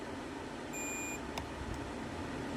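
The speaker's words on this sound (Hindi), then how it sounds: "जब हम लोग टच करेंगे तो बीप का साउंड देगा और रीडिंग आएगा जाएगा" Multimeter continuity beep while probes touch a coil on a mobile phone PCB: one short steady tone, under a second long, over constant background hum, with no talk.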